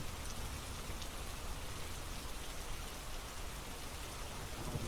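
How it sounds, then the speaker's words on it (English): Steady rain falling softly, an even wash of fine drops across the whole stretch, constant and moderately faint with no voices. "Listen to the sound of the rain gently falling in the background."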